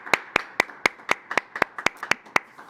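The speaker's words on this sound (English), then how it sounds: "I'd like to give them a round of applause." Applause at an Arlington public meeting: a small group claps for appointees, roughly a dozen distinct, sharp hand claps in a steady, brisk rhythm, fairly close and unaccompanied by talk.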